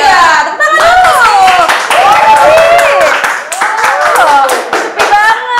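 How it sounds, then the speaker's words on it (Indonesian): An audience at a campus talk show claps hands loudly and close to the microphone, with lively voices and cheers mixed in throughout. "Tepuk tangan dulu."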